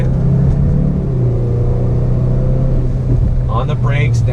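A 2019 Mazda CX-5 drones steadily under engine braking, with low engine hum throughout and a short burst of revving near the end from a quick downshift, under a driver's talk.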